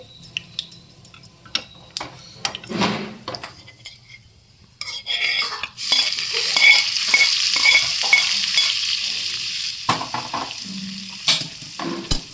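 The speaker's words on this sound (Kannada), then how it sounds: "ಇದು ಒಗ್ಗರಣೆ ರೆಡಿಯಾಗಿದೆಯಲ್ವಾ ಇದನ್ನು ನಾನು ಅದರ ಮೇಲೆ ಹಾಕ್ಬಿಡ್ತೀನಿ" Hot tempering poured over ridge gourd peel chutney, starting with spoon and bowl clinks before a loud burst of sizzling, then stirring and scraping as it is mixed.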